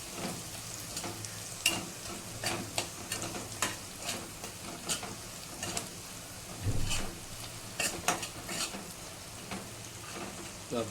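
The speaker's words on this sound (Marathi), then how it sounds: "आता मसाला पण आपण जरा फ्राय करून घ्या तेलात" Spices with asafoetida and turmeric fry in hot oil, a steady close sizzle with repeated scraping and stirring clicks from a utensil against the pan throughout.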